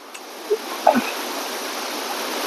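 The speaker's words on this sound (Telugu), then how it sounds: "ఇది వాటర్ ఫాల్ అనమాట" Steady rushing roar of a waterfall in the mountains near Kathmandu, Nepal, broad and constant, with a couple of faint brief knocks early on.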